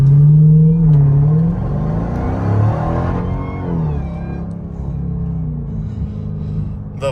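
A Dodge Durango Hellcat SUV accelerates hard at about three-quarter throttle, its loud engine note rising and falling through gear changes and then settling into a steady rumbling cruise, heard from inside the cabin.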